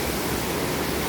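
Mother Falls in Aurora gives off a constant, dense roar of falling water, loud and unbroken over a brief moment, with no voices.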